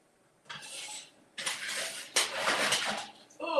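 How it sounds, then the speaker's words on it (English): A skillet comes out of a kitchen cupboard in several bursts of clattering and scraping metal against cookware, close by, separated by short quiet gaps. "let me get a skillet"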